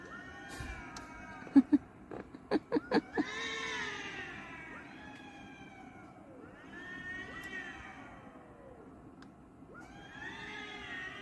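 Cats yowl in long, drawn-out wails from a distance, preceded by a quick series of sharp clicks or taps.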